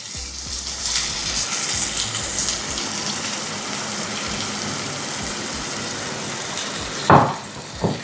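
Tamarind water poured into a hot cooking pan during Onam meal preparation, a continuous gushing splash with faint sizzling, ending in a couple of sharp clanks of utensils.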